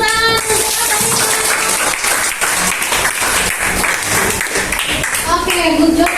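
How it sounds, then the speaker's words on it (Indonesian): Students in a Jakarta high school classroom clap together after a presentation, a loud, close burst of applause mixed with voices that carries through the whole stretch. "Oke, tepuk tangan."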